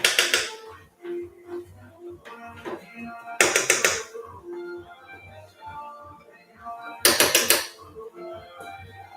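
Pot of egusi melon soup shaken on the stove, three loud bursts of metallic rattling and scraping with quieter clinks and some talking in between.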